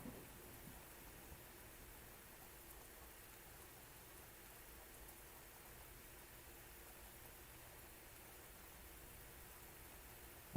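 Rain hissing steadily during a thunderstorm in the Civil War strategy game Grand Tactician, a quiet, even wash of noise throughout with no distinct thunderclap.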